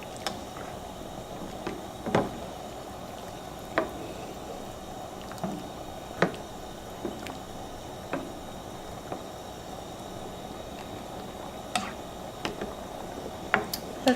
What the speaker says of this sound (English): and let it come up to a boil again